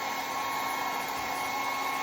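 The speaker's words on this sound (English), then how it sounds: "You just start blow drying it." A blow dryer runs steadily at close range, drying a freshly unmolded clay piece from a slump mold; a continuous even whoosh with no breaks and no talking.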